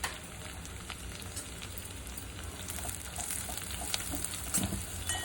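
Cashews and other nuts fry in a pan while being stirred for vermicelli sheer khurma, producing a faint, steady sizzle with soft scraping, heard alone without talk.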